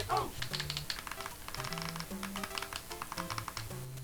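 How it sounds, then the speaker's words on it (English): Clicky buttons on an Anbernic RG40XX H handheld game console, pressed in quick irregular taps, soft and close, over faint game tones with a little background sound. "Anbernic buttons are quite clicky."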